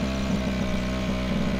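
A V8 car engine in the survival video game Hurtworld runs at a steady idle, a continuous low rumble with even harmonic texture held at constant loudness throughout.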